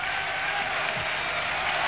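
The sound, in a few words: thunderous applause from football stadium crowd at half-time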